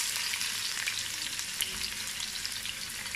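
Long-sliced onion sautés in oil for pineapple pulao, producing a dense, steady sizzle up close with a faint stir partway through.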